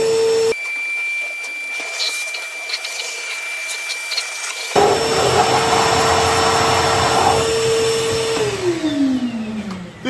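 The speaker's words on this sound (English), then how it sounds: "This Hoover's got a blow function as well as a suck." A Hoover vacuum cleaner runs in the engine bay of a Ford F100 farm truck, whining steadily with a high tone, then switching into a louder, breathier rush before its pitch drops as it winds down.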